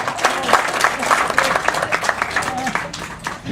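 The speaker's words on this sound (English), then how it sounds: "Everybody give them a round of applause." Audience at a community health talk clapping, a steady burst of applause from a room of people with a voice speaking over it.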